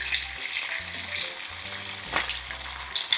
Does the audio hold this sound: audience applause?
no